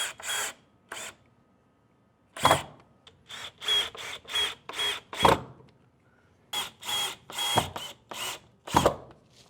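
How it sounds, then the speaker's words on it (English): Power drill driving screws up into pre-drilled holes in the wooden frame of an 8-foot craps table, heard as a series of short whirring bursts, some single and some in quick runs, close and clear with pauses between. "You're going to go ahead and install the screws underneath the pre-drilled holes in the wood."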